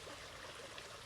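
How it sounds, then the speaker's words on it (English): Gentle flowing water runs steadily in the background, a soft continuous stream-like trickle with no breaks, quiet and even throughout. "We have the flow of the water in the background"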